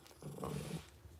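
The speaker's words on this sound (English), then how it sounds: "Growling at the thunder." A dog growls low and close during a stormy night, one short rumbling growl of under a second standing out against quiet background noise, with no voices over it.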